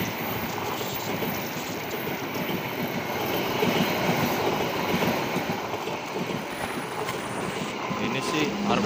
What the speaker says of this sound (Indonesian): Ini sih kereta Argo Cirebon ini.